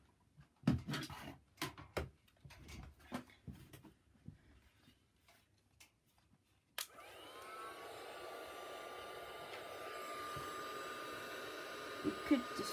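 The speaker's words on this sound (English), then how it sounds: "I'm going to dry that with my heat gun." A heat gun drying a watercolour poinsettia card blows with a steady, loud whooshing roar. It switches on partway through, after a stretch of scattered handling noises, and keeps running to the end.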